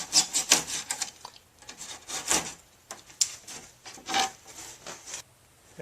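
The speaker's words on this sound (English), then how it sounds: "So I'm just going to cut this section out here." A razor knife slices through fiberglass and foam on a mini pontoon boat bench seat, making close, scratchy rasping strokes in uneven bursts with brief pauses, fairly quiet and with no talk.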